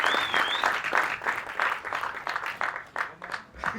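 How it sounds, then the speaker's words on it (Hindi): Audience applause at a Punjabi film event welcoming director Rohit Shetty, a steady wash of clapping from a crowd that sustains throughout, with no talk over it. "ऑफ कोर्स रोहित सर के लिए एक बार जोरदार तालियां हो जाए"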